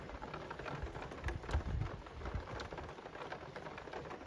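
Faint, steady rainfall patters on surfaces outdoors under an overcast sky, a soft, diffuse hiss with scattered louder drops and no voices.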